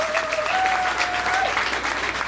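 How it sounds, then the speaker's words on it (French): Steady crowd applause at a festive runway show event, dense clapping throughout with a faint tonal whistle or squeal passing briefly over it. "on va applaudir bien fort"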